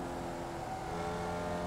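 Formula Vee race car engine in the iRacing video game at Tsukuba Circuit, a steady buzzing drone held at constant pitch without a break.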